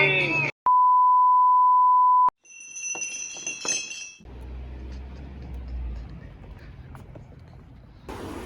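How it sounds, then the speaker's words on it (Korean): A phone alarm notification sounds as one loud, steady electronic beep held for nearly two seconds. Bright clinking chimes follow, then ongoing background noise. "이렇게 알람이 떴어요."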